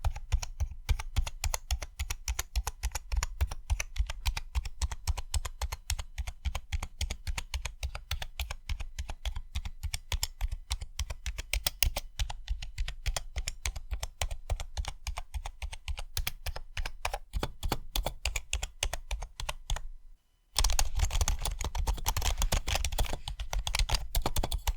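Rapid, steady typing on a Bass Jaxx LED 65% gaming keyboard, close and crisp clacks running continuously for about twenty seconds with one short pause near the end.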